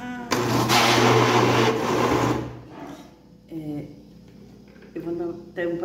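Electric blender whirring loudly while blending mango juice, a steady motor drone for about two seconds that then cuts off, followed by short bursts of nearby talk.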